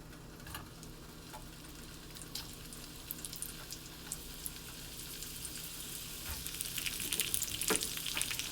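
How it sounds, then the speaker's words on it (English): Egg rolls begin to sizzle in hot oil in a frying pan that is over two years old, a faint, crackly frying hiss with scattered ticks that grows louder and busier toward the end. "Because things are starting to sizzle."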